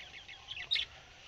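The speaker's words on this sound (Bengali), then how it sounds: "দেখতে পাচ্ছ লাভবার্ড এখনও রয়েছে" Lovebirds in a cage give a brief burst of faint, high chirps, a few quick tweets over a quiet background.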